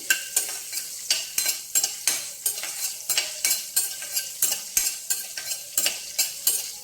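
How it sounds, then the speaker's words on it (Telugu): Green chillies fry in a hot pan, a close, steady sizzle punctuated by a regular rhythm of spatula scrapes and taps against the metal, about two strokes per second throughout. "పచ్చిమిరపకాయలు కొంచెం వేగాలండి."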